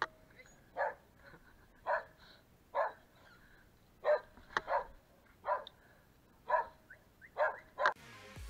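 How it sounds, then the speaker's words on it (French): A dog barks repeatedly at mountain bikers on a trail, about a dozen sharp, fairly close barks in an irregular rhythm with short pauses between them. "On se fait attaquer par un chien."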